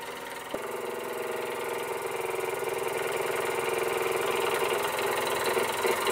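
An Albury Manor MK4 model steam engine, thought to date from 1965 to 1975 and with a slight flywheel wobble, runs with a steady, fast mechanical chugging and whir, close and continuous, after a single sharp knock near the start.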